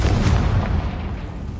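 A Confringo blasting spell detonates in Hogwarts Legacy, a short, heavy booming burst that rolls off quickly into a fading rumble.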